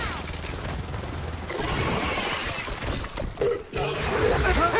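Gunfire in Gears of War 4 during team play, dense continuous bursts of shots and crashing impacts, moderately loud and steady over the whole stretch.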